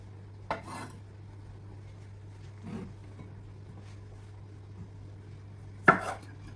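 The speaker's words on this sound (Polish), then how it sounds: "biorę się za krojenie ogórków" A knife chops cucumbers on a cutting board in a home kitchen, giving three sparse, close knocks spread over quiet background with a low steady hum, and no talking.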